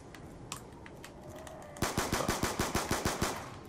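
Video game gunfire: a few scattered shots give way to a rapid, evenly spaced burst of automatic fire, about a dozen punchy rounds in quick succession, loud and close.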